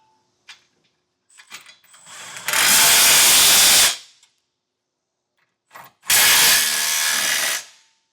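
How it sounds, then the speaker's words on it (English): A ratchet with a 19mm socket tightens trailer hitch hardware on a 2025 Nissan Frontier: a few light clicks, then two long, loud bursts of rapid ratcheting separated by a short pause. "we can go in and tighten down all the hardware with a 19mm socket"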